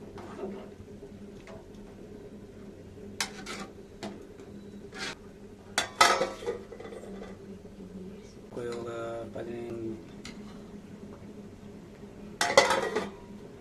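A kadai pan is set on the stove with several sharp metallic clanks and knocks of cookware spread across the scene, with brief rattles and a quiet humming background between them.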